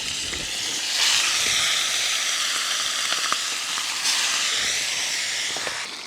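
Chicken legs sizzle in a hot frying pan while cooking outdoors for shkmeruli, a continuous, even hiss of fat that swells slightly and holds steady throughout, with a few faint clicks.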